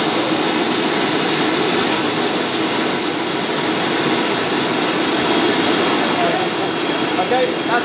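A model locomotive's gas turbine engine idles at a steady, loud roar with a high, thin whine running through it, unchanging throughout.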